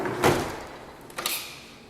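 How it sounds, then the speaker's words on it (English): A house door in a kitchen pushed shut with a soft thud, followed a moment later by the short metallic click of the lock, close by with no talk. "just going to lock the door."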